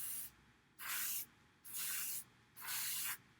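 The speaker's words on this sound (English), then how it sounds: "Doing a light spray." An airbrush laying down a light coat of paint on a Be'lakor miniature: three steady bursts of soft hiss, each about half a second long, separated by short pauses.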